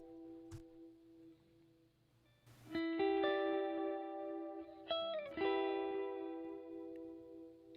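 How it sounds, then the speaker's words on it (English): A handful of sustained electric guitar notes played through a short slap-back delay, each note followed by a quick echo. No one speaks. "just by adding that delay"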